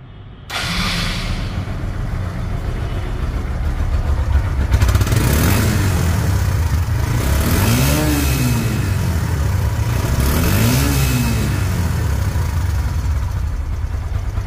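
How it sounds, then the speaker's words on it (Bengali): A Hero Ignitor 125 motorcycle from late 2022, in showroom condition, runs close by, settling into a loud steady idle with two distinct rev rises and falls partway through. "রানিং অবস্থায় আপনারা গাড়িটির সাউন্ড শুনুন।"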